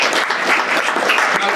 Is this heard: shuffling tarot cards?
no